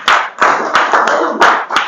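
Congregation clapping at a church gathering, several loud bursts of hand claps close by in an uneven rhythm, with no talking.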